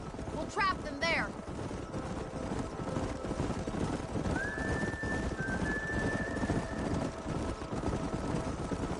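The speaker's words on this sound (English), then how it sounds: "don't let those horses out of your sight" Horses in the Western video game Red Dead Redemption neigh loudly near the start, then hoofbeats drum steadily under a constant rumble, while a voice talks over them.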